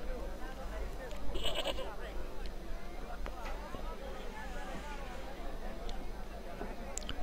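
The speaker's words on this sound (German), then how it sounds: "Ach, guck mal, eine Ziege" A goat in the video game Broken Sword II gives one short bleat early on, set against a constant background of noise and low murmuring.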